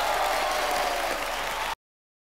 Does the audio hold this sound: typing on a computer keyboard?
no